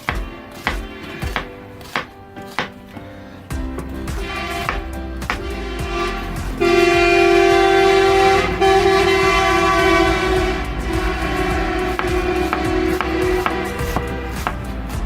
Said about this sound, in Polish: Chyba jedzie wesele, no bo trąbią.